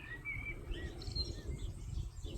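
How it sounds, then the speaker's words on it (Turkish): Small birds chirp in the evening around a village house, thin high calls scattered over a steady low rumble of outdoor background noise. "Kuş sesleri."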